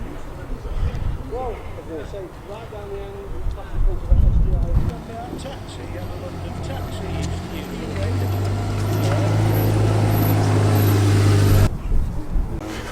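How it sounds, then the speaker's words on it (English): A rear-engined green Hillman Imp classic car arrives, its low engine hum rising and growing louder before cutting off, amid outdoor bustle with voices talking. "coming in we have a rear-engined green Hillman Imp"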